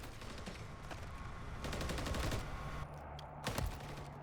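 Rapid bursts of automatic gunfire and scattered shots from a first-person shooter match, dense and continuous, with a louder burst near the end and no voices.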